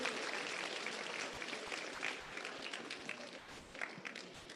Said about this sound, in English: huge round of applause for Meenakshi.